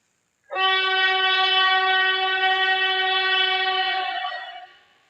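A train horn sounds in a cartoon animation made on a mobile phone, one long, loud, steady blast that starts abruptly, holds for about four seconds and then fades out, with no talking.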